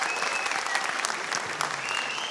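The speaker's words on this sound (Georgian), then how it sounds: "ცალკე აპლოდისმენტებს იმსახურებს სანგუს გულშემატკივარი" Lively applause from a hall audience at a Georgian league quarterfinal show, continuous clapping with a few whistles rising above it, heard over a short stretch.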